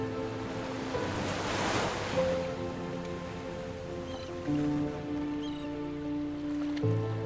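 Sea waves washing onto the beach at Trouville on the Normandy coast, a steady broad surf wash with wind noise, the crests swelling and easing over about seven seconds, no voices.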